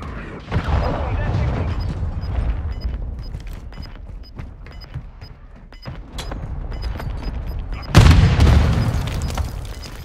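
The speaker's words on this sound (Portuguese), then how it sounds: "Ataque de morteiro inimigo a caminho." Mortar shells from an enemy attack explode in a combat video game, a run of booming blasts and scattered crackling fire with a heavy, loud burst near the end, voices talking underneath.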